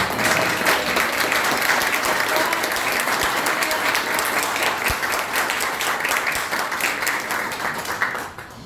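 A crowd at a Rotary Club event gives a sustained round of applause, dense and steady clapping that fills the room before tapering off at the end.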